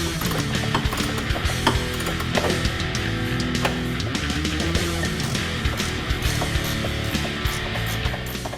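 A ratchet works continuously to break free the rear control arm bolts on a 1979-1998 Mustang, giving a dense, steady run of clicking and mechanical rattling close by.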